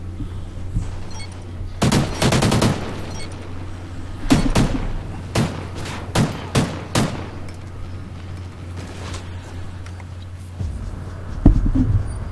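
Rapid bursts of video game gunfire crack out in clustered volleys, some sustained like automatic fire and others as single sharp shots, loud and close over a steady low hum, with no talking.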